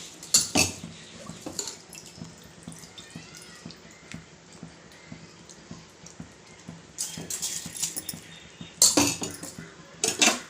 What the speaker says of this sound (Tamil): அரிசி போட்டாச்சு ஒரு கிண்ணி கிண்டிட்டுருக்கோம்